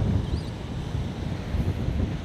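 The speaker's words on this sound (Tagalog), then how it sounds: "Ang lakas ng hangin dito, sobra." Strong wind on the coast at Real and Infanta buffets the microphone in a continuous low rumble with gusty swells, steady and close for the whole stretch.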